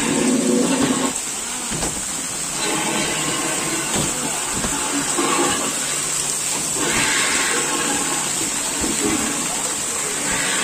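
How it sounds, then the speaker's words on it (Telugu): Steady rushing water from a waterfall at a Jurassic Park amusement garden, a loud broad wash holding constant throughout, with faint crowd and voice sounds mixed underneath. "ఆ వాటర్ ఫాల్స్ కూడా సూపర్"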